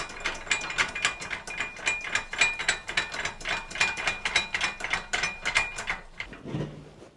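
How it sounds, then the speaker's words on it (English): Clamps on an old Workmate bench being wound closed, with a fast run of close, steady ratchet clicks that stops with a dull knock at the end. "I'm going to wind these into their closed position"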